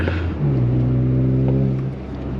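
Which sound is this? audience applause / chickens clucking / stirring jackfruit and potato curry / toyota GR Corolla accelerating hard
toyota GR Corolla accelerating hard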